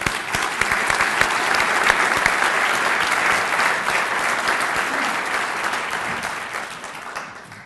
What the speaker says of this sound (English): I'd like to really give you a big round of applause